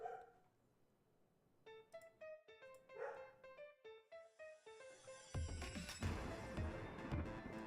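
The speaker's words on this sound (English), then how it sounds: "this dog won't stop barking" A dog barks repeatedly at close range, a steady series of sharp yips that grows louder and more continuous toward the end, with no talking.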